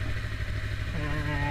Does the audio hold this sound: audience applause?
no